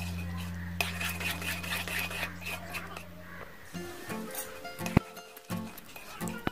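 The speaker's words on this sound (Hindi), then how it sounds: "तो यहाँ पे आपको हिलाते हिलाते जब आपको लगेगा कि इसके अंदर का ऑयल खत्म हो चुका है" A spoon stirs besan (gram flour) and oil in a pan for Mysore pak, making soft scraping and clinking strokes against the metal close by, under a low steady hum and a few sharp taps.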